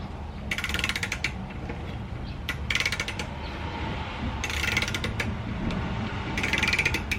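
Ratcheting torque wrench clicking in short bursts while tightening a tie rod on a Toyota Starlet KP61, the rapid pawl clicks coming in four spaced runs, close and fairly loud over a low workshop rumble.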